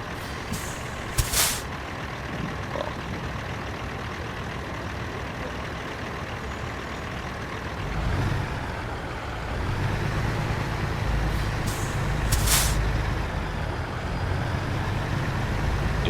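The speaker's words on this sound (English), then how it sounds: "right now our parking brakes are engaged and then now they're disengaged" Truck air brakes in a driving simulation game give sharp, loud hissing bursts as the parking brake engages and later releases, over a low idling engine hum that rises partway through.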